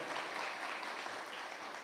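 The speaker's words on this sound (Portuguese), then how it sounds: "Aplauda a Virgem Santa, aplauda ela é a mãe do nosso Salvador." A church congregation at a Catholic service claps briefly, a faint, dense patter of many hands with no voices over it.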